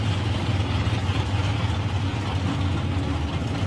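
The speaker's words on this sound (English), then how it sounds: "It's a 565 big block Chevrolet, so he's picking up a lot of rev" A drag racing car with a 565 big block Chevrolet engine at a raceway, its loud, close engine roaring steadily with deep low rumble throughout the short stretch, no voices present.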